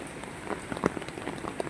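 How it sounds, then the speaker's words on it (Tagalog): Light rain falls steadily during a typhoon over floodwater, with scattered drops pattering on a surface in an irregular rhythm; fairly faint, no talking. "Kukunting ulan pa nga lang oh."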